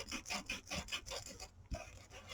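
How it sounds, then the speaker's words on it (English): A small disc sander mounted on a pouncer roughs up the edges of a paper craft envelope flap, giving soft, quiet, repeated rubbing passes in quick rhythm with one brief gap, heard close without speech. "my little disc sander on a pouncer"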